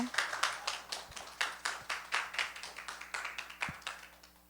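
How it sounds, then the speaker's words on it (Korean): Clapping from a church congregation welcoming a presenter to the front, a loose and fairly sparse rhythm of distinct hand claps that stays steady for several seconds before tapering off, with no talk over it. "박수로 환영해 주세요."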